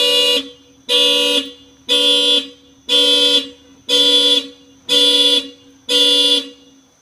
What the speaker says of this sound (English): It's kind of like a boing, and then the alarm.